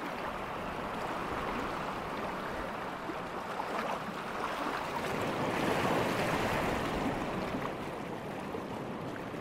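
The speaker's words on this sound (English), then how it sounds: "water in the Kananaskis River was roaring downstream like it was springtime" Kananaskis River water in winter roars and splashes past a rock shelf edged with ice, a steady, full, close rush that swells slightly midway and continues unbroken, with no voices.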